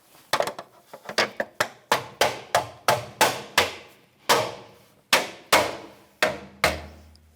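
A hubcap being tapped back onto a 2013-2018 Toyota RAV4 wheel, a steady series of about fifteen sharp, close knocks with brief ringing, spaced roughly half a second apart.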